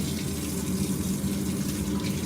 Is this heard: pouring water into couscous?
yes